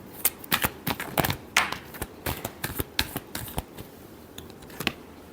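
Tarot cards are shuffled close by, a rapid series of crisp slaps and riffles with uneven rhythm that thins out toward the end.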